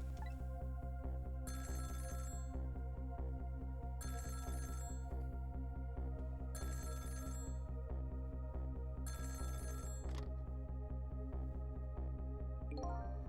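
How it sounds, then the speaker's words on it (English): A telephone rings in the video game Ghost Trick, four electronic ring bursts at an even pace over a continuous droning musical background. "About 2 hours before dawn, the phone rang."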